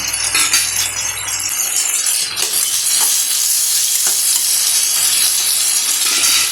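Tomatoes sauté in a pan for a dried-fish tamarind curry, a loud, close, continuous sizzle and hiss with occasional stirring scrapes and light clinks of a utensil against the pan.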